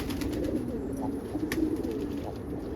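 Pigeons coo softly in a backyard loft, a series of low rolling coos repeating over a steady background hiss.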